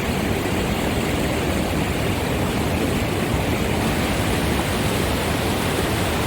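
Clear water of the Kaweah River in Sequoia National Park rushing steadily, a loud, constant broadband wash of flowing water with no pauses and no voices.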